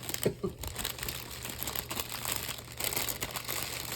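Packaging or paper crinkles close by in soft, irregular rustles and crackles over a low steady background hum.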